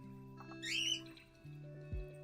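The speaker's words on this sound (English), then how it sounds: "my birds screaming their fucking heads off is not the vibe" Pet birds let out a short, shrill squawk at some distance, faint against a quiet indoor background, followed by a few softer chirps.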